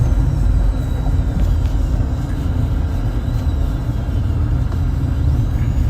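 A car driving along a road gives a constant low engine and road rumble inside the cabin, steady and fairly loud throughout, with no one speaking.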